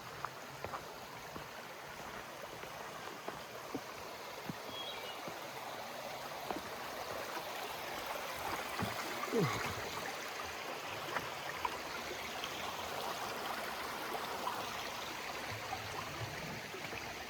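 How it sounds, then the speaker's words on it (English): A stream flows across a hiking trail on the Appalachian Trail, giving a continuous, even rush and trickle of water that stays steady throughout, heard up close with no voices. "It's a water crossing."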